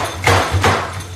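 A knife chops half a bell pepper on a cutting board in a home kitchen, making two close, sharp taps against a low background hum.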